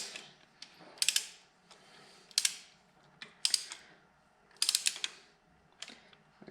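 Ratchet cranking a 6-point socket on engine head bolts of a Hammer 1250 kit, five close, crisp bursts of rapid clicking separated by short pauses, with no talking.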